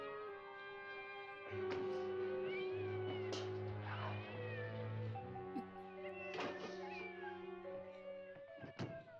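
Repeated meows from a cat in a film scene, drawn-out wavering calls over a steady low hum, with a few sharp knocks near the end.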